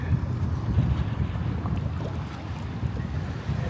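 Steady, loud wind buffets the microphone beside the Mississippi River in Davenport, Iowa, in a continuous rumbling roar, with faint water movement beneath and no voices.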